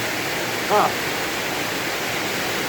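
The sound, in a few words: very heavy monsoon downpour in Laos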